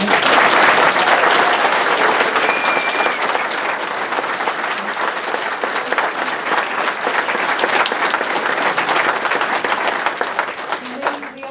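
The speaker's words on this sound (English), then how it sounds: "Let's give our panelists a round of applause." Audience applause for the panelists at a DragonCon 2015 comedy convention panel: dense, sustained clapping from a large crowd that holds steady for about eleven seconds before tapering off at the end.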